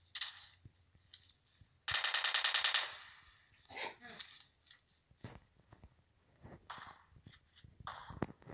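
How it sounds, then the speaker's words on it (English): Shotgun fire in the mobile game PUBG Mobile comes as a few sharp, separate blasts, with one longer rattling burst near the start. The shots are spread among quiet gaps and faint voice sounds. "I missed with the shotgun"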